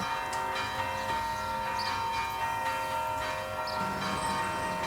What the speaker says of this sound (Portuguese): Como estamos ouvindo, justamente os sinos tocaram agora, porque faleceu uma pessoa lá